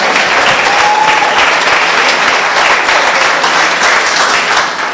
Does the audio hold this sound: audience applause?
yes